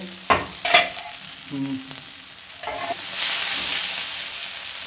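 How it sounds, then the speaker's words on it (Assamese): Shredded cabbage fries in a pan at home, giving a soft continuous sizzle with a few scraping stirs and clinks of a utensil, fairly quiet and close, with no talk. "তো এয়া আমাৰ বস্তুখিনি ভালদৰে ভাজ খাই আছে"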